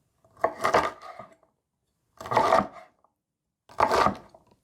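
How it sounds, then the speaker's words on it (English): A knife cuts green beans into bite-sized pieces on a board: three separate, fairly close chopping strokes, each a short cluster of knocks, evenly spaced with silence between. "So let's get these chopped up."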